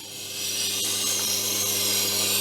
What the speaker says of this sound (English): when you're getting to the end of sharpening your knife